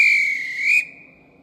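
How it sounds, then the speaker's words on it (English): A train guard's whistle for closed doors in the Roblox game SCR: one loud, steady shrill tone that holds, lifts slightly near the end, then drops to a quieter sustained pitch before fading. "so listen carefully to this closed doors sound"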